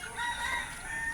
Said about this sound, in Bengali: তো এই হচ্ছে আমাদের মুরগির অবস্থা।